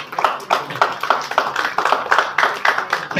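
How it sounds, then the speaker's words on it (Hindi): Applause welcoming a guest at a Red Cross blood donor day event in Faridabad, a steady crowd of hands clapping loudly and continuously with no speech. "जोरदार तालियों से स्वागत करें।"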